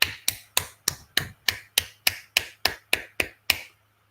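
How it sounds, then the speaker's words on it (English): Single pair of hands clapping alone, about thirteen sharp evenly spaced claps at a brisk steady pace, close and dry, ending in silence. "I'll clap how quick births are."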